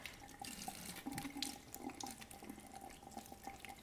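Running tap water pours steadily over dried guajillo peppers being rinsed in a kitchen sink, with a continuous splashing flow and small drips, close and moderately loud with no talking.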